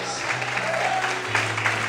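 A church congregation applauding during worship, a short burst of clapping mixed with voices and a sustained low tone, moderately loud.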